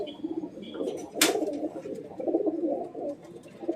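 Pigeons coo in a loft at a home collection of flying pigeons, with a low, continuous murmur of cooing and one brief sharp noise partway through.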